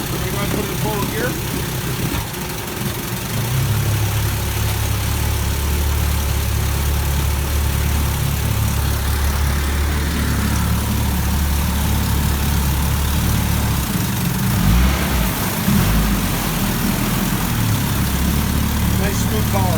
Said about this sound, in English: Nice smooth power. Very clean motor.